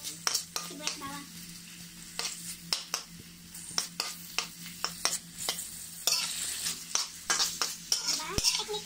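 Onion and garlic sauté in a pan for a lomi noodle dish, a soft sizzle broken by frequent sharp clacks and scrapes of a utensil against the pan, irregular and close, with no voices.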